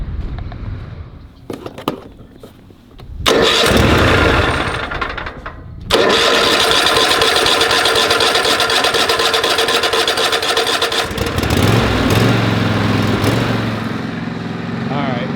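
After a few clicks and pulls, a lawn mower's small engine sputters, catches and roars to a loud steady run, then settles into a lower idle; voices speak briefly.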